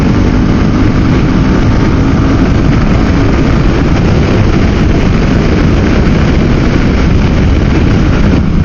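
Heavy wind roars across a rider's microphone on a Harley-Davidson Pan America at highway speed, a loud, unbroken low rumble and buffeting rush that fills the whole stretch without letup.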